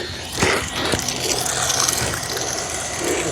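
Cement mix is poured into driveway cracks, giving wet, gritty scraping and sloshing with a couple of sharp knocks near the start, at moderate level with no talk.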